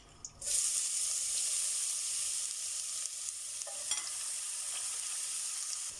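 Grated onion frying in a mix of butter and oil in a pot, a steady dense sizzle that holds close and loud throughout, with a few faint clinks and stirring scrapes.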